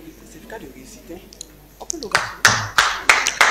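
A diploma-ceremony audience starts clapping after a quiet stretch of faint talk and room noise, with a handful of loud, sharp claps close to the microphone breaking out in an uneven burst.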